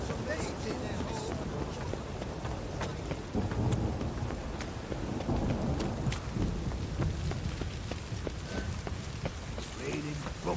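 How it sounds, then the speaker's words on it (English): Steady heavy rain in The Witcher 3, a dense continuous wash with scattered sharper drops and low rumbling, a voice talking over it now and then. "It's raining buckets."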